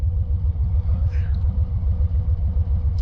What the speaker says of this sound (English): what kind of exhaust I'm running on this bike, believe it or not, they're Reinhardt slip-ons